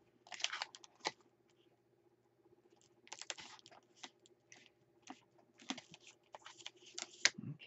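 Paper is handled and folded for a jumble journal, giving faint, close, crisp rustles and crinkling bursts in short clusters separated by quiet pauses.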